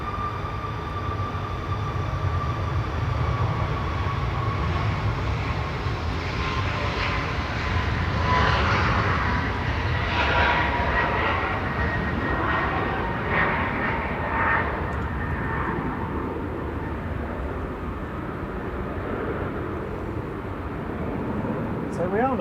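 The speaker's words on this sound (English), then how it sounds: "Next arrival, A350-1000 coming in from New York JFK with Virgin Atlantic flight VS128" A Virgin Atlantic Airbus A350-1000 jet arriving at Manchester Airport from New York, its engine roar building to a loud broad rumble and whine before easing off, with voices talking over it throughout.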